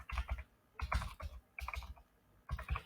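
Fingers type a domain name on a computer keyboard in short bursts of quick clicking keystrokes, with brief pauses between groups, close and fairly quiet.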